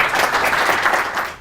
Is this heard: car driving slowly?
no